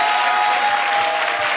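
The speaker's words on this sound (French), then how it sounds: "Et applaudissez-la." A short burst of steady applause from an audience, dense and even, clapping continuously without voices.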